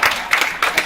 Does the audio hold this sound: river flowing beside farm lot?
no